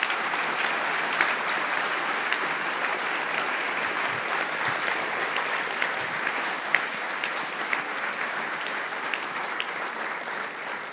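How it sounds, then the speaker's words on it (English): At the Jessup moot court world championship round, a large audience applauds the national administrators with steady, even clapping that continues for about ten seconds at a constant level, with no speech over it. "I'd like a round of applause for our national administrators"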